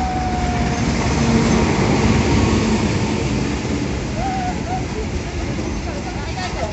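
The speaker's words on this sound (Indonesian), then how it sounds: "keretanya datang" The Sri Tanjung passenger train arrives at an Indonesian station with a loud continuous rumble of rolling wheels and rail noise, while people chatter nearby on the platform.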